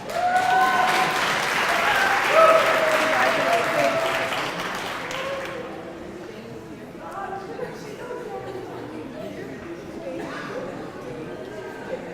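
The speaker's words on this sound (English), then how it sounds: "let's have another round of applause for all the media management graduates, please" Sustained crowd applause at a graduation ceremony honouring media management graduates, loud and dense at first, then fading after about five seconds into scattered claps and low murmuring chatter.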